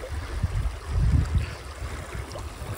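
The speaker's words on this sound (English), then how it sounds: "There's a lot of water going down this little river here" A small, clear, fast river runs nearby, its flowing water making a steady, close wash of gurgling and rushing with soft low thumps, heard alone without voices.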